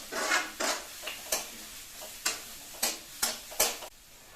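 Onions stirred in hot oil for a chicken sukka, a steady sizzle broken by repeated scraping spoon strokes against the pan, close and moderately loud, with no talking.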